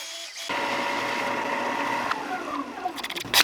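A power drill whirs steadily as it bores into a jointed jerkbait fishing lure, its motor tone slowing and fading toward the end before a few sharp clattering knocks.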